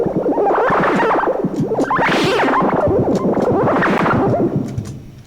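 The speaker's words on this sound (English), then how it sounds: "Note echo is a really cool MIDI effect. Basically, it's like delay, but for MIDI." A NuRAD wind synthesizer plays rapid squiggly note runs with a MIDI note echo effect, cascading repeats swelling in three bright waves before fading out at the end, with no voices.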